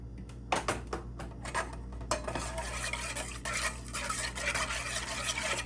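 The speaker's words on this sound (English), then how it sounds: "Give it a good mix." Egg, water and oil for cake batter are mixed in a bowl: a busy, continuous clatter of a utensil scraping and tapping against the bowl, close and fairly loud.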